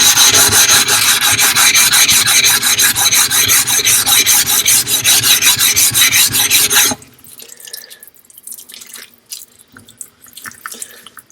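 A Japanese natural whetstone has its edge chamfered with a steady, gritty rasping scrape for about seven seconds, then stops, leaving faint scattered handling noises.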